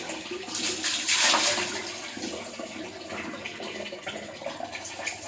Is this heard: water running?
yes